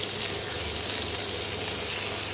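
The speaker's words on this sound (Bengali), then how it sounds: "এইবারে এগুলোকে একটু কষাতে হবে।" Lamb meat with chopped tomato sautéing in a pan gives a steady, close sizzle and crackle of frying, continuous and even with no voices.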